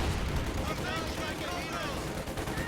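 Squad hitting a mine in a strategy video game, a dense, continuous blast of explosive noise with crackling gunfire-like bursts, loud and close, holding steady throughout.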